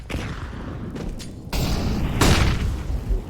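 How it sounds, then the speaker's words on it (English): Grenades exploding in the video game Counter-Strike, heavy booming blasts with rumbling bursts, loud and close, one big hit around midway and another after. "Well, a lot of nades"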